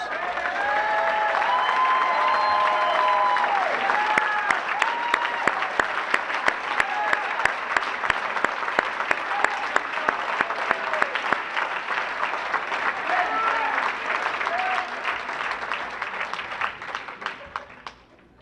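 A convention crowd applauds the organizers as they stand, loud sustained clapping from a large audience with scattered cheers and chatter, gradually tapering off toward the end.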